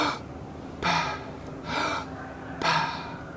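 Three sharp, loud recovery gasps after a freediving breath hold, each a quick forceful inhale with a brief pause between, evenly spaced and close, with no talking.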